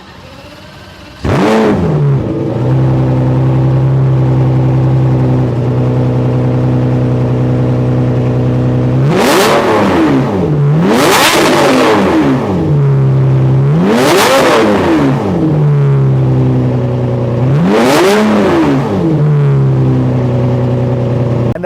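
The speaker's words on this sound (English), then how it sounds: "That exhaust sounds even better than I remember it." A Lamborghini Murciélago engine, swapped to manual, starts with a sharp bark, then settles into a deep idle broken by four loud, throaty exhaust revs that rise and fall.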